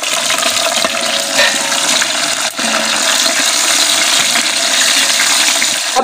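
Tomatoes, half a kilo, go into garlic-ginger paste frying in a pan over an outdoor village cooking fire, raising a loud, steady, broadband sizzle that hisses continuously without pause.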